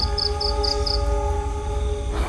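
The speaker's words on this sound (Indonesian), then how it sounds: "Suara kereta dari tadi." A train rumbles past, its low steady roar carrying faint tonal hums, with a short series of high pulsing beeps early on; no voices are heard.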